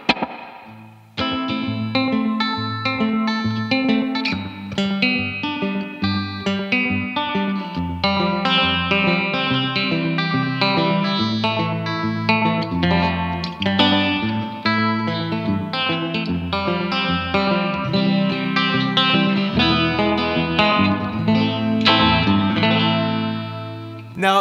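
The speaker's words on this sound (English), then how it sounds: "Now, to make it sound even more haunting, I'm gonna put a slapback delay." Plucked banjo-guitar notes with a quick slapback echo trailing each one, played steadily with a distorted, warbling tone and no talking.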